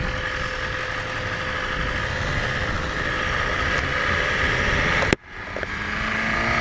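A 2020 BMW S1000RR superbike engine idles with a steady, even rumble close by, then a sharp click and a brief dip partway through before the idle settles again, without talk.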